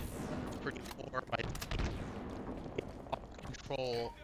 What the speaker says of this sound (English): Shots from 2 plasma grenades